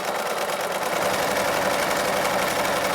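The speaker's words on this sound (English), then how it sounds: "I'm just going to sew them together here." Sewing machine stitching face mask fabric, a steady, close mechanical whir with fast rhythmic needle chatter running unbroken throughout.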